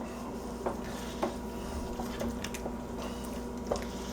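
Hamburger chow mein with soy sauce gets stirred in a pan, producing soft, squishy scrapes and a few light taps of the utensil over a low, steady background.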